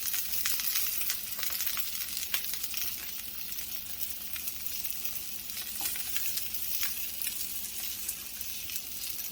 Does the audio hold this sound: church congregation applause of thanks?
no